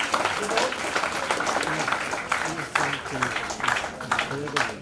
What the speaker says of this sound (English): So maybe a huge round of applause for all of you.